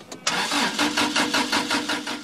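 After a brief pause, the starter on a gasifier-fuelled Toyota Hilux cranks the engine in a steady run of rhythmic pulses, up close and loud, but the engine never catches.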